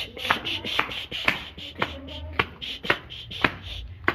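Food being chopped on a board during home cooking, a series of close, sharp knife taps in an uneven rhythm, with faint shuffling and hand movements around them.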